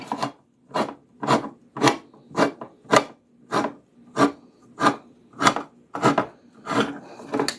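Cans of peaches are being opened with a manual can opener, giving a steady series of about a dozen evenly spaced rasping clicks as the opener grinds around the rim, close and alone.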